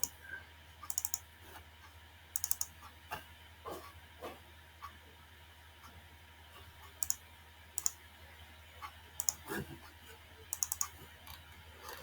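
A computer mouse clicks sharply several times in quick pairs and singles, faint and close, with quiet hiss and occasional soft tapping during a bioinformatics tutorial.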